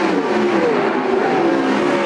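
Sprint cars of the Western Sprint Tour racing at Sunset Speedway Park, a loud, continuous engine roar with steady high-pitched drone and slight pitch shifts as the cars work around the track.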